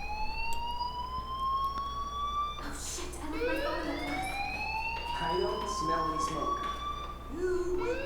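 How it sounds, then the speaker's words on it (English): A fire alarm in the video game Life is Strange blares steadily, accompanied by rising and falling siren-like tones that sweep repeatedly throughout. "Hey, do you hear that fire alarm? That means you should be outside."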